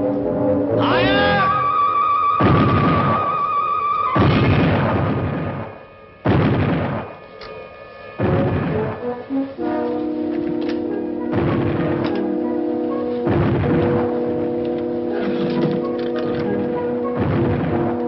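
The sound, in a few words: ship's cannons firing a broadside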